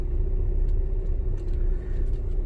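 A car driving slowly on a training drive, approaching a tractor ahead, gives a steady low engine and road rumble that stays even and close throughout, with no talk.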